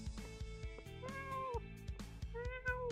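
A person imitates a cat, giving a series of rising and falling meows close to the mic over a rapid rhythmic low pulsing background.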